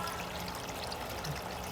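Water trickles steadily from the end of an aquaponics pipe, a soft continuous wash of splashing that stays even and low throughout with no voices.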